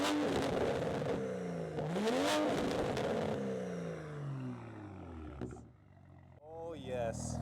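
A Toyota GR Corolla's engine revs up and down in loud, close sweeps, then drops to a quieter idle, with brief voices near the end.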